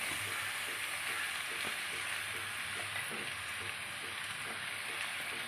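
Ginger, garlic and three chopped tomatoes sautéing in a pan for semiya biryani produce a faint, even, rain-like sizzle throughout, with soft rhythmic stirring beneath it.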